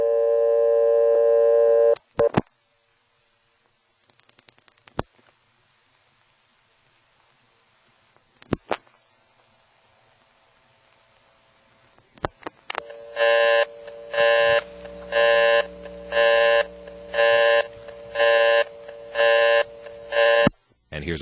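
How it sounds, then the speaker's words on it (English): Telephone line on a step-by-step exchange with a GTE ring: a steady hum at the start, sharp isolated clicks from the rotary switches, then a loud pulsing tone that repeats in regular on-off bursts. "the hum on the line and the rotary switch sound are not quite so prominent"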